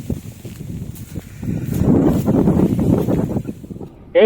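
Strong wind in the hills of Idukki, Kerala buffets and roars across the microphone in gusts, rising loudest in the middle, with no one speaking.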